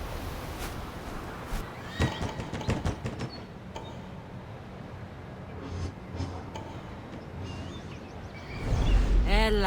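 A horse in Assassin's Creed Odyssey whinnies and neighs, with clip-clop hoof sounds and scattered clicks, ending in a louder rumbling burst near the close.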